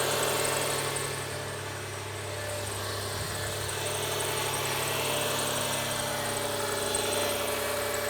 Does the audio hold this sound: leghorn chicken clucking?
no